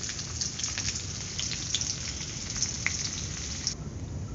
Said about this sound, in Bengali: তেলটা গরম হয়ে গেছে, এখন আমি ফোড়নটা দিয়ে দিচ্ছি তেলে